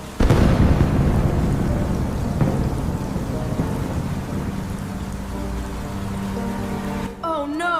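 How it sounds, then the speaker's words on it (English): Heavy rain pours steadily with rumbling thunder throughout, loud and close, joined near the end by a brief burst of high, chirping voices. "It's raining so hard."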